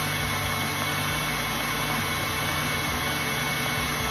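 A KitchenAid stand mixer runs continuously at steady speed, giving a loud, even motor drone with a constant hum and no pauses or voices.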